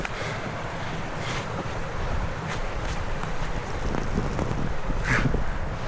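Wind rushes and gusts through a snowstorm on a hike near Perry, Utah, roaring steadily against the microphone with a few louder bursts, and no one speaks.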